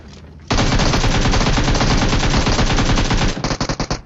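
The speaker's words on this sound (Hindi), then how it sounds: "आगे जाकर जो है फायरिंग होती है और ओपन में जो है 4 बंदे आपस में लड़ रहे होते हैं" Nonstop automatic fire from a PUBG Mobile gunfight roars loud and close for about three seconds, then breaks into a handful of separate single shots at the end.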